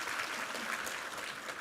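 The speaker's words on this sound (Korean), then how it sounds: "우리 하나님께 감사와 영광의 박수 올려드리겠습니다." Congregation clapping together in a church during a Sunday worship service, a steady, dense wash of applause at low volume with no voices.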